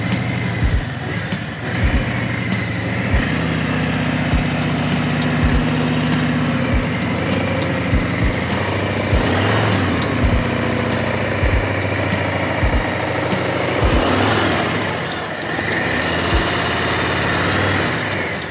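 A Harley-Davidson motorcycle engine idles and rumbles steadily up close, with its low throb rising and falling as it revs and strains under load riding up a ramp into a truck bed.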